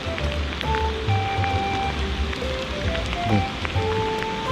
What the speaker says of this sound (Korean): 물속에 이게 이 빗소리가 물속에도 전달이 되겠지?